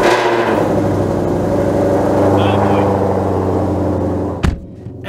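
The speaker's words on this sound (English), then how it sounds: "we got to start it up, and this car is so stupid loud" A Shelby GT500 with its loud stock exhaust roars close by in a steady, heavy rumble that holds for about four seconds, then drops off with a brief clatter near the end. A voice can be heard faintly under the engine.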